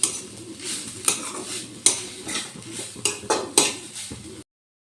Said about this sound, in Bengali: এইভাবে নেড়ে চেড়ে একটু ভেজে নেব রাঙালুগুলো